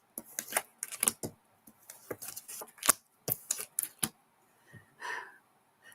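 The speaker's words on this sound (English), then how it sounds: "Shuffling these babies and picking up on energy." Tarot cards are shuffled by hand in quick, crisp riffles and taps, near and fairly quiet, with irregular bursts and short pauses.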